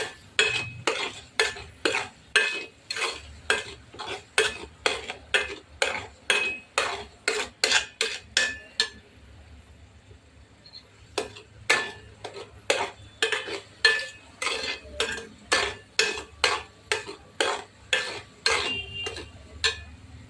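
A spoon stirs and scrapes spice masala frying in oil in a metal pan, giving a steady run of sharp, rhythmic clinks with a brief pause midway, close and clear with no talk.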